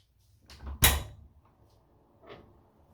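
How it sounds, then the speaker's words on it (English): A door is opened indoors during an at-home skin peel: a short, loud knock-like burst of handle and latch, preceded by faint handling and followed by a quieter rustle. "I'm opening the door"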